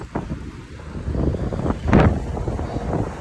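Gusty wind by a rough ocean in Cartagena buffets the microphone in rising and falling bursts, loud and close, with a rough rumble underneath and no talking.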